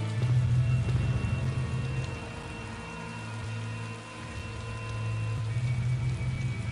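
Steady rain hisses through a Tales of Xillia cutscene, a dense continuous wash with a low droning hum beneath, moderately loud and unbroken, briefly easing midway before swelling again.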